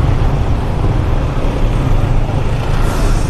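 Dense, steady road traffic in a jam on Diversion Road in Davao City, a continuous loud rumble of idling and creeping vehicles with no clear pass-bys.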